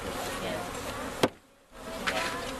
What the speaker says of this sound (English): This one has a lot of bees on it, so I'm gonna bump it.